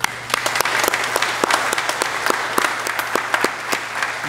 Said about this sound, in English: So I want to give you a round of applause for those two accomplishments.